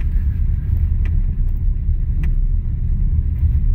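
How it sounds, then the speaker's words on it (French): A BYD Seal U, a front-wheel-drive all-electric family SUV, pulls away on the road. A steady loud low rumble of tyres and road noise fills the cabin, with faint clicks and no engine roar. "Parce que je démarre, hein. Regardez, la voiture se déplace."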